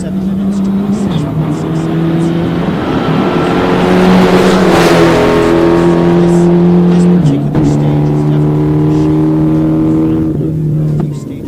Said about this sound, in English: Peter Genti and Zachary Goldstein, the Mitsubishi Lancer. Looks so awesome, that beautiful white color in the desert landscape